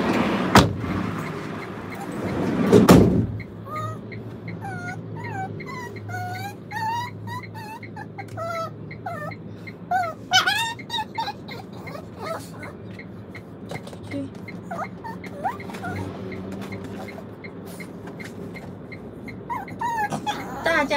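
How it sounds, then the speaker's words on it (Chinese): A pet dog named Nini, at home after a trip out for sashimi, gives a run of high, wavering, crowing-like yelps that rise and fall much like a rooster, loud and close over a low household rumble, after a brief thump near the start. "对，我都觉得它不是狗，它是鸡，它真的叫的声音很像一只鸡"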